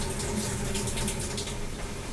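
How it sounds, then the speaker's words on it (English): Cold water valve of a GE GTW460ASJ6WW top-load washer under test, letting water rush in as a steady loud gushing fill with no talk. "We're going to press it, and you can hear the water."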